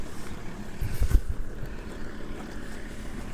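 A 2014 Ford Ranger 3.2 diesel with a DPF fault idling, a steady low rumble close by with some wind buffeting and no talk.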